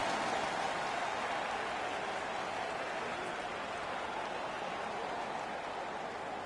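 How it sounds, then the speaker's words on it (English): A digital hockey crowd in the NHL 15 video game roars after a fight. The cheering is a dense, steady wash of noise from a large arena audience that holds at one even level throughout, with no speech heard over it. "Their man's won the fight. The crowd is ecstatic."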